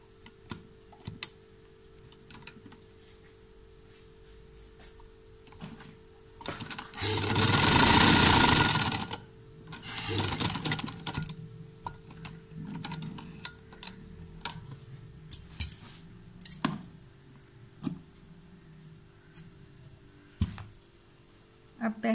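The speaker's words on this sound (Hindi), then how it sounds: "अब मैं आपको लगा के दिखाती हूँ।" Sewing machine stitching bias-cut piping strips, one loud continuous run of stitching in the middle, with shorter bursts and scattered ticks and clicks around it.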